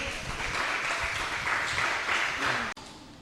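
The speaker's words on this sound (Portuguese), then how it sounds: "palmas para Jesus." Church class in a Portuguese-speaking congregation applauding together, a steady wash of many hands clapping at moderate volume that runs for a few seconds and cuts off abruptly near the end.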